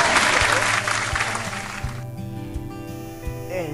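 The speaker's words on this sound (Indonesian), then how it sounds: "Tepuk tangan buat Buro." A studio audience on a talk show claps loudly for a couple of seconds, then the applause fades into a music bed with beats and sustained tones.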